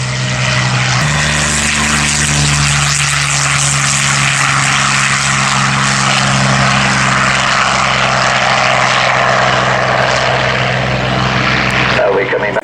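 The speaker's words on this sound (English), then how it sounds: "our Shuttleworth Collection Sea Hurricane, followed by Peter Teichmann's Hangar 11 P40M are going to get airborne underneath him" A Sea Hurricane and a P-40M propeller fighter getting airborne at an airfield flying day, loud sustained piston-engine drone with a shifting propeller tone, a commentator's voice faintly underneath.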